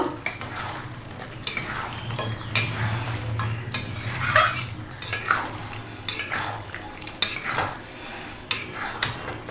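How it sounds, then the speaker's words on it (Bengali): Spoon stirring yogurt chicken curry (dahi chicken kosha) in a metal pot, with repeated scraping clinks against the pot and soft wet squelches over a low background hum, close and moderately loud. "এবার ভালো করে নেড়ে চেড়ে আবার ঢেকে দেব"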